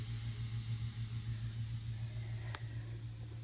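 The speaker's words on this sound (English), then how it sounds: "Do you hear that fizz?" A bath bomb fizzing in bathtub water gives off a steady soft hiss, heard close up over a low constant hum, with one brief click partway through.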